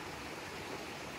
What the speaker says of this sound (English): Janet's Foss, the little waterfall.